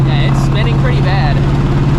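A Procharged New Edge Mustang GT spins its wheels without traction, making a loud, steady engine drone with a strong low hum, while a person talks over it.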